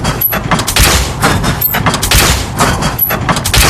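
Rapid volley of gunshots from a shooting session, dense broadband bursts packed closely together and loud throughout, with several sharper cracks standing out.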